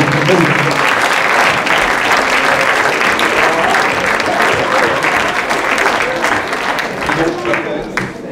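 Loud, sustained applause from an audience at an awards evening of a photography and exploration festival greets a prize winner, with some voices mixed in beneath the clapping until it tapers near the end.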